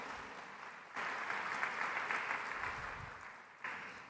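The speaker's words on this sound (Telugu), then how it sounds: "చప్పట్లు కొట్టి దేవుని స్తుతించండి" A church congregation bursts into applause to praise God, a dense, lively round of clapping from a crowd that swells suddenly, holds for a few seconds, dips, then rises again.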